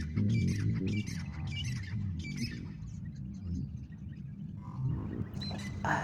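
A bird squawks at feeding time as bread is put out, giving a quick run of harsh, loud calls near the start, then quieter scattered sounds, with no one talking.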